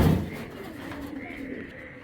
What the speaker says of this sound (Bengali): কবুতরটা কিন্তু অনেক সুন্দর ভাই